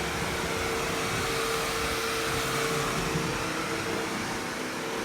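A Bissell Crosswave Cordless Max wet-dry vacuum runs on a floor, giving a steady, even whirring hum with broad airy hiss that holds constant throughout, with no voices.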